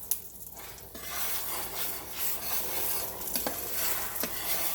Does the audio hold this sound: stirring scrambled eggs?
yes